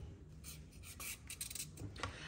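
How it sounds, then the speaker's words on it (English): A carrot being peeled for a chilli con carne, giving quiet rasping scrapes in short repeated strokes, close and soft with no talking. "So just start by peeling a carrot."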